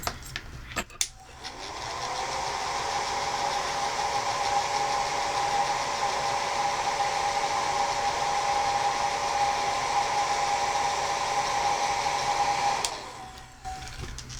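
A craft heat dryer blows on a paper Christmas tag as a loud, continuous whirring hum. It runs for about eleven seconds with faint clicks at the start and end.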